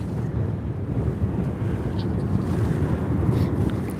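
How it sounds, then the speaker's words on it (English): Heavy sea wind on a beach buffets the microphone with a continuous low roar and gusty rumble, loud and unbroken across the whole stretch. "It is very, very windy coming in off that sea."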